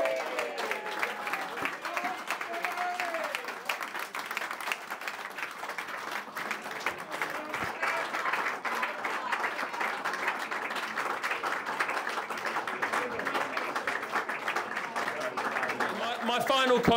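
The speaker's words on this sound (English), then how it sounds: "So, Tim, come up and get a round of applause." Sustained audience applause fills a hall at an awards night, steady dense clapping throughout with a faint voice or two underneath, growing slightly louder near the end.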